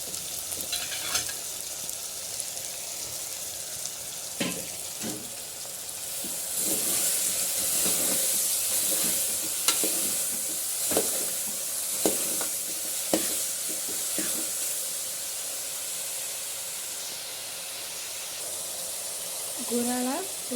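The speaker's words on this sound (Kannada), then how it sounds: "ಸ್ವಲ್ಪ ಬೆಲ್ಲ, ಸೋರೆಕಾಯನ್ನು ಹಾಕ್ಕೊಳ್ಳಿ. ಇವಾಗ ಮಿಕ್ಸ್ ಮಾಡ್ಕೊಳ್ಳಿ." Bottle gourd and jaggery being stirred in a hot pan for palya, with a steady sizzle and hiss throughout and repeated scraping clicks of a spoon against the pan at close range.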